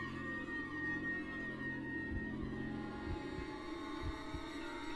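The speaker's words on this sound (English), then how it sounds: "Hey, a heartbeat." A low, throbbing heartbeat in the video game The Burning Room, several soft regular thumps under a steady droning hum.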